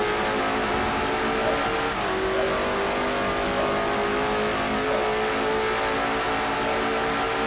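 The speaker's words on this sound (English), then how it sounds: "now floors the throttle on the number 11 machine" A race car engine at full throttle in a stock car racing video game, a steady loud droning roar that holds a high pitch throughout, with no talking.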